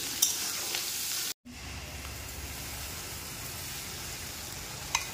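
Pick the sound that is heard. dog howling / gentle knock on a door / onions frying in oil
onions frying in oil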